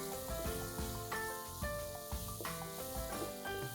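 Chopped tomato and bell pepper are stirred in a pan for black pav bhaji, giving a faint sizzle with soft scraping strokes under a light musical background.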